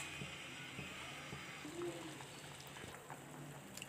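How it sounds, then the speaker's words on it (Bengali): Chicken simmers in a pot of water for spicy chicken soup, with a faint, steady bubbling and occasional soft clicks at low volume. "চিকেন সিদ্ধ করে নিতে হবে।"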